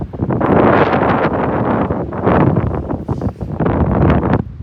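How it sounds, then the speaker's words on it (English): Strong gusts of wind buffet the microphone in loud, rumbling bursts that rise and fall, with no other sounds standing out, at Lal Lal Falls Reserve, Australia. "Very windy today, however, still pretty nice."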